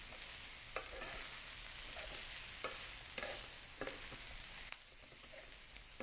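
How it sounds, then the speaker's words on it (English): Pheasant meat cooks in a pan with a steady high hiss of frying, punctuated by occasional light taps and scrapes of stirring, fairly quiet and close with no speech. "But we'll let that meat cook for a minute."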